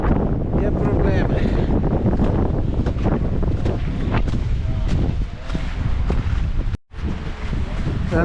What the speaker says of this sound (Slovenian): Tole danes še piha ful in piha plus